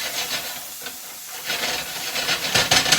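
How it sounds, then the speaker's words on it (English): Onions sizzle with a pinch of salt in a fairly dry pan, a steady close hiss and soft scraping that grows louder and busier toward the end, with no voices. "So now we are sauteing."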